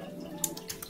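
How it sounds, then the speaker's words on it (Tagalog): A water tap left running, a faint steady trickle with a few small splashes and drips, close by in a quiet room. "Nakalimutan ko yung tubig na i-off."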